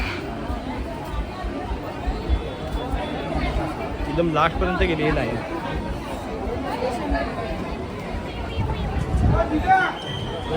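Dense crowd chatter fills the Lalbaugcha Raja darshan queue during Ganesh festival, a steady murmur of many voices with nearby people talking over it and a few brief louder bursts.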